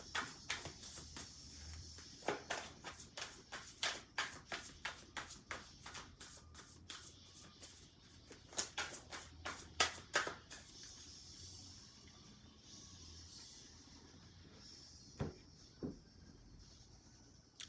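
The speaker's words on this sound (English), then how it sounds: "Now we're shuffling the Tattoo Tarot here." Rapid riffling bursts of tarot cards being shuffled, repeated in quick runs, close and crisp, followed by a few soft taps and quieter handling.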